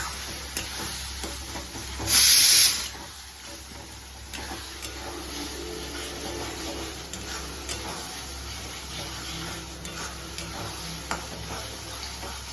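Spices for a spicy Bengali mutton kosha are ground into a paste with a little water in a bowl, giving a steady soft rubbing and scraping texture, with a brief sharper hiss near the start.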